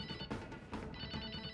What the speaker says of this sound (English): That phone's not going to answer itself.